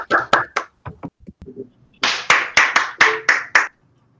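An audience at a Spanish-language scientific talk on magnetic domain walls in thin films claps after the talk, a short burst of hand claps that pauses and then returns as a longer round of close, loud claps.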